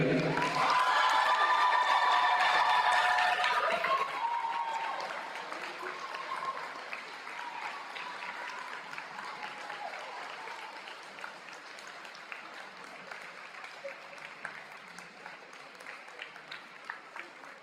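Sustained audience applause at an academic excellence awards ceremony, loud and dense at first, then thinning into lighter scattered clapping that carries on to the end.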